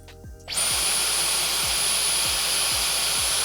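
Dyson V15 Detect Absolute Extra cordless stick vacuum switching on and running, a sudden loud whoosh rising into a steady high-pitched motor whine and rushing airflow, with faint repeated low thumps underneath.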